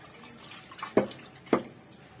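Freshly churned butter is washed by hand in cold water after the buttermilk is drained, in preparation for making ghee. Two soft, close splashes sound about half a second apart against a quiet background.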